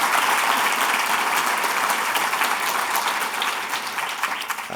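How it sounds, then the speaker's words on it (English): Sustained applause from a dinner audience at an education awards event, dense and steady throughout, easing slightly toward the end with no talking over it. "and he deserves a round of applause."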